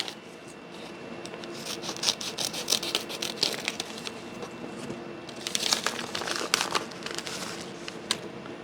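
Scissors snip and crinkle through plastic packaging holding headset cables, close scratchy cuts in bursts over a light steady background hiss.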